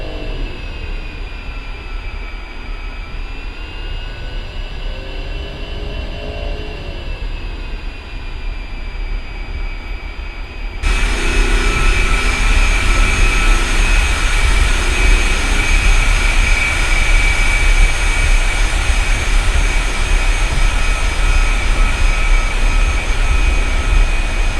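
An A-10C jet engine spools up in a flight simulator with a steady rising whine and turbine hum. The sound jumps sharply louder and brighter about halfway through, then holds as a loud continuous roar with no voices.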